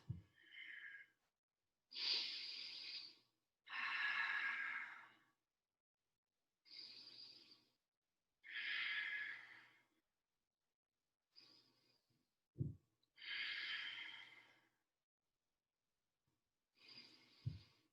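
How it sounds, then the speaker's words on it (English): Slow, deep breathing during a yoga pose, with soft airy inhales and exhales recurring every couple of seconds over eighteen seconds, faint and close, a few brief low thumps between breaths. "Make sure you're breathing here."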